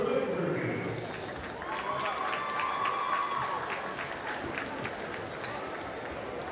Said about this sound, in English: Round of applause for Rebecca Virgils.